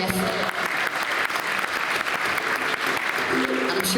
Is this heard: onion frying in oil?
no